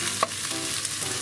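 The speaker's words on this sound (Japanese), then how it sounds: "はいナスとチョリソーを絡めて、で火はずっと中火ね。" Eggplant and chorizo stirred in a pan over medium heat, a soft scrape and steady light sizzle with one sharp clack of the utensil early on, close and moderately quiet.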